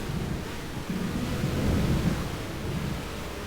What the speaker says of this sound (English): Beautiful rain effect.